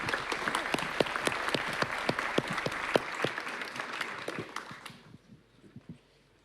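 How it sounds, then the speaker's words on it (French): An audience at a round-table on cyber and information defence applauds student moderators, with crisp, distinct claps at a steady pace that thin out and fade to near silence by the end. "J'espère que vous allez bien les applaudir"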